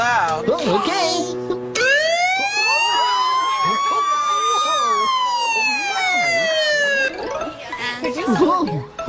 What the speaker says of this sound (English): And here is where you turn on the siren.